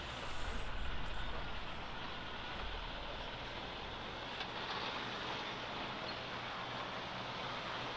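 A truck rumbles steadily at a middle distance, with a broad, even engine drone that swells slightly early on and then holds without pause.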